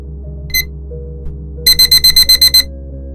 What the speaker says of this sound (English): My alarm clock, not gunfire, not howlers.